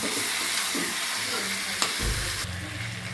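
Chicken pieces sizzling and being stirred in a pan for a Bengali chicken curry, a steady close frying hiss with scraping stir strokes and a louder clatter partway through.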